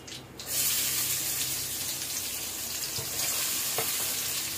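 Onions hitting hot oil in a pan while cooking pasta, a loud steady sizzle that bursts in after a brief lead-in and holds broad and close throughout, with a faint clink near the end.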